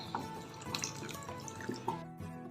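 Hot water poured into a cooking pot in a kitchen, a soft running and splashing trickle with a few drips and clinks, fairly faint and without talk.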